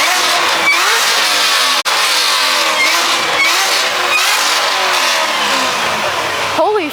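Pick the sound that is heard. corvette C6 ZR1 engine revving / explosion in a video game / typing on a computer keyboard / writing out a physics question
corvette C6 ZR1 engine revving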